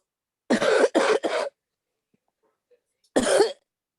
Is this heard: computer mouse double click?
no